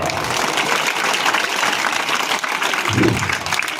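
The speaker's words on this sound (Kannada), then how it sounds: "ಜೋರಾದ ಚಪ್ಪಾಳೆ ಕೊಡಬೇಕು" Applause from an audience welcoming teachers at a school event honouring Kannada school teachers, a steady wash of many hands clapping throughout, loud and continuous, with a low thump near the end.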